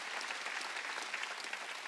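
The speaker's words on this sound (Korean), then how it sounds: "박수 치려면 세게 쳐야 돼" A church congregation at a Wednesday worship service claps in a dense, even burst of applause, fairly close and steady for the whole short stretch.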